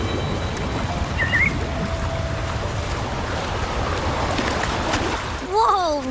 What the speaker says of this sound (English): That's a really big waterfall.